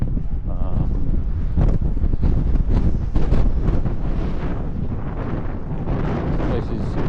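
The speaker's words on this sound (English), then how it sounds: "Quite windy" Steady, loud wind buffeting the microphone outdoors in Taipei, Taiwan, a constant rumbling roar with gusty surges throughout.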